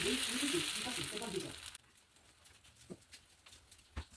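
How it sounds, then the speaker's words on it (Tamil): A crisp paneer dosa fries on a griddle with a loud, steady hiss and crackle for under two seconds. It cuts abruptly to near quiet broken by a few faint taps. "இப்போ நல்ல கிறிஸ்பியாக ஒரு தோசை நம்ம சுட்டுக்கலாம்."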